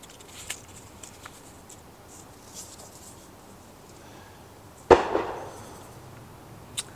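Distant gunshots from a local countryside shoot, one sharp nearer bang in the middle and a few faint pops before and after, set against quiet outdoor ambience.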